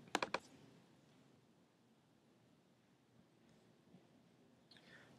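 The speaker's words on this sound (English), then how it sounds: "I will click Submit." Computer mouse clicks: a quick cluster of sharp, close clicks at the start, then faint room hush with a few soft ticks.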